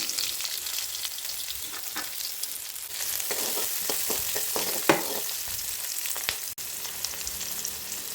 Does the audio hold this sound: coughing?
no